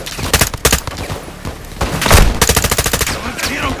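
Gunfire rings out in Call of Duty: Modern Warfare 2 (2022) on PS5: loud, close bursts of rapid automatic fire with short gaps, then a dense stretch of overlapping shots.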